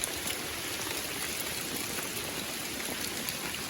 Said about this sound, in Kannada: ಫುಲ್ ಮಳೆ ಬರೋದೈತಿ.